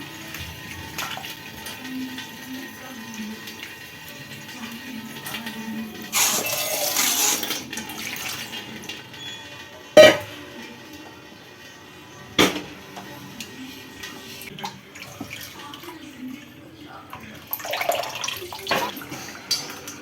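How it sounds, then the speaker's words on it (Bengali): Clean water is poured over chhena to rinse and strain it for rasgulla. A steady splashing pour builds in the middle of the clip, with a few sharp knocks and later bursts of trickling, all fairly close and without talk. "এইভাবে ছেঁকে এতে এক পরিষ্কার জল দিয়ে আর একবার ছেঁকে নিতে হবে"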